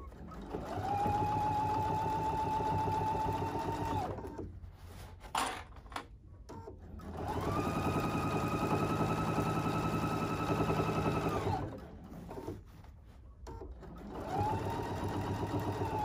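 A sewing machine stitches tucked-in straps on a double wine bag, running in several steady bursts of a few seconds each with short pauses between, close and clear.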